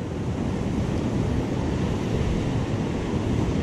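Ocean waves wash steadily onto a beach where someone is fishing from the shore, a loud, continuous surf roar mixed with heavy wind buffeting the microphone.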